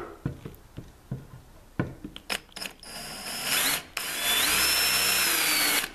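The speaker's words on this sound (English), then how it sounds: "we're going to drill one hole." A few clicks and knocks come first, then a power drill whirs loudly and steadily as it bores a half-inch-deep hole into knotty wood, its pitch shifting under load.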